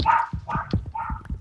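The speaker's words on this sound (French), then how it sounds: "Il y a les chiens qui commencent à japper un peu" Dogs in the Minecraft video game give a quick run of short, yappy barks and yips, several in a row, close and fairly clear.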